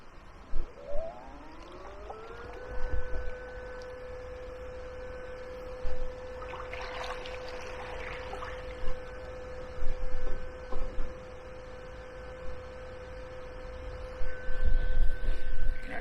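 A Hiqmar EP18Li electric fin motor on water spins up with a rising whine that settles into a steady hum, running continuously under light splashes and wind bumps.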